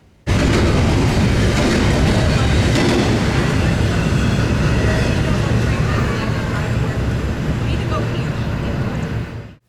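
A train without helper engines roars past the platform at Altoona, Pennsylvania, a loud, sustained rumble with wheel clatter and squeal that holds steady before cutting off abruptly at the end.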